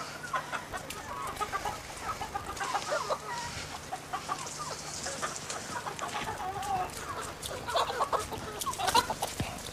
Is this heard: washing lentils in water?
no